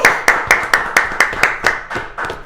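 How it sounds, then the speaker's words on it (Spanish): A single pair of hands claps about ten times in a steady, even rhythm, close and loud, with no crowd or talk. The setting is a studio interview. "un aplauso."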